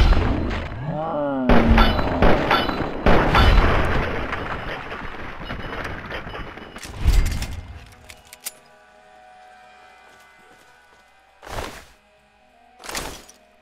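Gunfire in Fallout 3 amid a busy firefight: a run of loud, sharp booming shots and thuds packed together, then quieter ambience broken by two more isolated heavy shots near the end.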